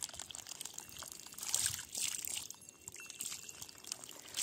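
Clear water gushing from a newly drilled borewell, 550 feet deep, pouring in a steady, moderately quiet stream with a splashing, trickling texture and no speech.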